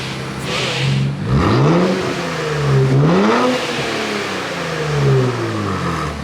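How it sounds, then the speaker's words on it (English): An Infiniti Q50 Red Sport engine revs up and down three times through a stock exhaust, each rise and fall close and loud. "you guys gotta hear this stock exhaust"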